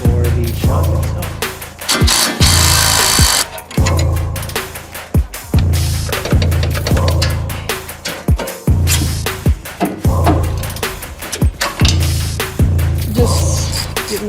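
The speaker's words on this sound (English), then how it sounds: "Just getting the bottom screws out of the shocks." A power tool on a Chevy Silverado ZR2 drives out the bottom bolts of the shocks. It rattles loudly and close in long bursts, broken by short pauses and sharp clicks.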